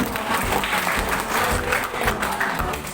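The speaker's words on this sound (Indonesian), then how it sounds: "Aplaus untuk kita semua." A workshop audience of teachers at a training session claps together, a dense, steady wash of applause that carries on evenly for the full few seconds.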